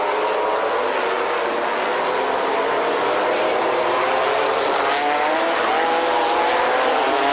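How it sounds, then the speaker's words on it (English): A McLaren race car with a 650 hp BMW engine revs at the start of a 1995 BPR Global GT race at Jerez, a loud and continuous engine roar whose pitch slowly climbs as it is held. "just gives a squirt of this 650 horsepower BMW power in the McLaren"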